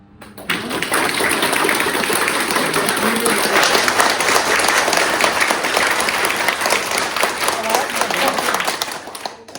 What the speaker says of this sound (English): Now you clapped with a sense of understanding why are we clapping, right?